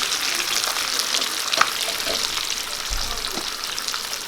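T-bone steaks sizzle on a hot tawa in a continuous hissing crackle, close and steady throughout with a few faint knocks.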